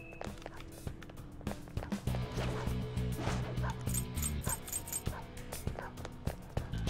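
Dog enemy barking during a battle in the video game Persona 5 Royal, with repeated short yips and barks over busy game music and battle effects.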